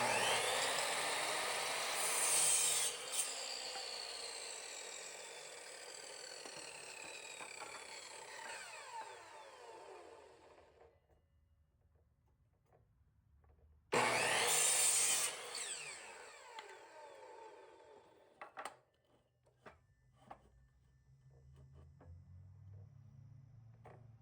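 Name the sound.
chop saw cutting wooden boards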